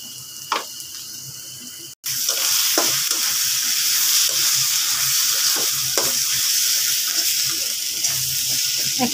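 Fish bhuna sizzling in a pan with turmeric and chili powder, a steady loud frying hiss broken by scraping stirs, after a brief quiet start.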